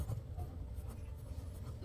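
Pen scratching steadily on paper while working out a primary-school arithmetic problem on interest, a quiet, continuous close writing sound with no talking.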